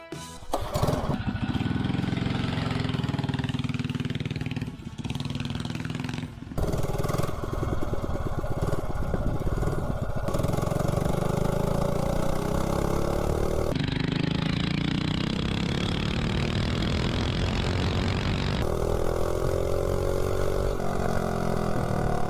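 Predator Ghost minibike engine with a Fire 265 cam and billet rod on a road test, loud close engine revving and accelerating in bursts, pitch climbing through runs with short dips between, wind buffeting throughout and no talk.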